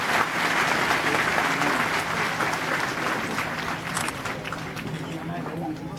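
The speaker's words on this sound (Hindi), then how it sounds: "सभी लोग तालियों का गड़गड़ाहट से आपका स्वागत करने के लिए निवेदन करता हूं मैं" At a birth centenary celebration, an assembled gathering gives thunderous applause to welcome a guest, a continuous, even wash of clapping with voices mixed underneath.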